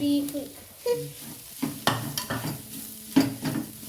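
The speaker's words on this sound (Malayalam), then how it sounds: "അപ്പോൾ നമ്മൾ ഇറച്ചി ചേർത്ത് കൊടുക്കട്ടോ" Meat tipped into a hot pan for a jackfruit tea-time snack, followed by stirring against the pan and steady sizzling, with scraping strokes at intervals, close and moderately loud.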